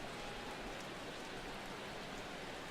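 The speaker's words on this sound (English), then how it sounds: "Rain continues to fall here in the 6th" Steady broadband rain hiss from a baseball stadium in the MLB The Show video game during the 6th inning, even and continuous across the whole stretch with no talk.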